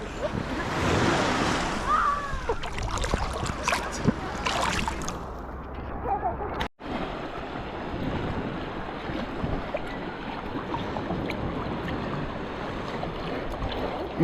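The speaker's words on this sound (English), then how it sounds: "bit of waves coming." Ocean waves washing onto a sandy, rocky beach during a holiday beach day, a steady broad rush with wind buffeting the microphone and voices talking over it.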